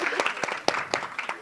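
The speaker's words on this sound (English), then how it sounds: "Let's give these ladies a round of applause." A small audience at a wellness masterclass gives a brief round of applause for a panel of women, made of a few distinct, uneven claps at moderate volume over a short moment.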